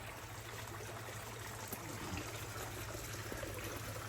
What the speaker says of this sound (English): come and check out the fish pond that they've put in. So it's got lots of water flow.